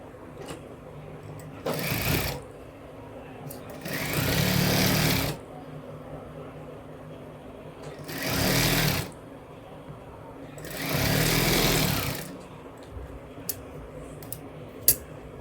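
An electric sewing machine stitches a blouse in a home tailoring session, running in four steady whirring bursts of one to two seconds each, with short pauses and small clicks between runs.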